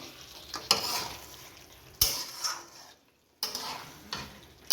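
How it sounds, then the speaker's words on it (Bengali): Mutton curry being stir-fried in a pan, with soft sizzling under repeated scraping and stirring strokes, a louder clatter of the spoon about every second or two and a short quiet pause midway. "তো চলো কষাতে থাকি"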